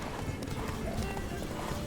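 A horse's hooves clip-clop steadily at a walk in The Witcher 3: Blood and Wine, soft and continuous under faint game ambience.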